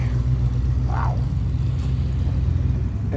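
A classic car rolls slowly in nearby with a low, steady engine rumble and a brief whir about a second in.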